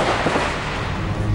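Gunfire from a security forces encounter with militants in a house in Pulwama, Kashmir: a short burst of sharp, echoing shots over a rough outdoor background.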